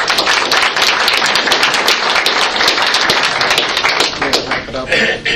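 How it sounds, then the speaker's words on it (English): A crowd applauding steadily, dense clapping from many hands that holds loud throughout and thins slightly near the end. "Let's give her a hand for that."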